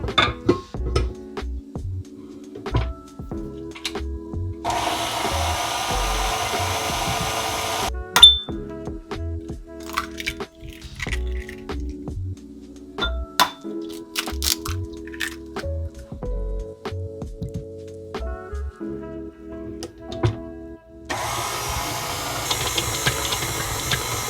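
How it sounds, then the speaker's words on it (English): A stand mixer with a dough hook kneads pumpkin pastry dough with eggs added, giving a steady motor hum broken by irregular knocks, clinks and louder bursts of whirring. "Let's get this going in our mixer with a dough hook"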